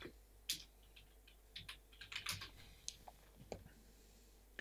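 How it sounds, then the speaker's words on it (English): Keyboard plugged into a PlayStation 2 for a Linux install, typed on up close in irregular bursts of sharp key clicks and taps, with no voices. "Now the keyboard does things."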